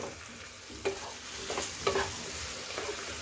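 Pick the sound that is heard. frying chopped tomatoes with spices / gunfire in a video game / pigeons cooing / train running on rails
frying chopped tomatoes with spices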